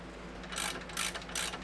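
A ratchet with a 21 mm socket tightens the caliper bracket bolts on a Ram 1500 EcoDiesel truck, three short clicking ratchet strokes in an even rhythm, close and moderately loud over a low steady hum.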